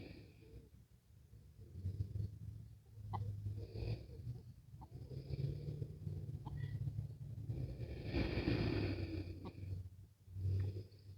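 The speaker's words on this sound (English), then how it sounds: "Just enjoying the little chicken noises." Small backyard chickens cluck softly and intermittently, with occasional brief calls rising over a steady low hum, fairly near and gentle throughout.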